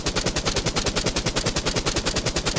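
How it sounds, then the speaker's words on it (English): A rapid-fire chaingun sound effect being redesigned for the Doom video game, a dense, evenly spaced stream of punchy gunshots in quick succession, loud and sustained with no pauses. "So there's our rapid fire effect."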